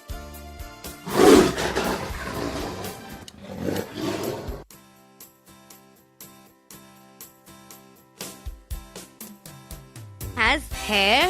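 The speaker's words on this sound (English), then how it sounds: "Tiger." A tiger lets out a couple of rough, loud roars near at hand, then a quieter stretch of rhythmic music takes over.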